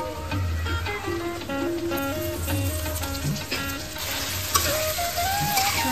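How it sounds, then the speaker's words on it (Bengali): Spice masala with tomato fries in a pan while being stirred, a steady close sizzle with scraping spoon strokes running throughout. "মশলাটা খুব ভালো করে কষিয়ে নেব"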